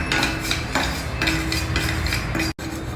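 Asafoetida cubes are dry roasted in a pan while a utensil scrapes and stirs them. The scraping is continuous and rhythmic, close and fairly loud, with a brief break near the end.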